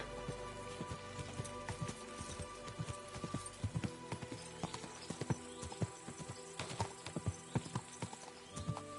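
Horse hooves clip-clop in a steady, uneven gallop rhythm while riding in Kingdom Come Deliverance 2, the thuds fairly close amid a faint outdoor ambience with a brief whinny-like tone.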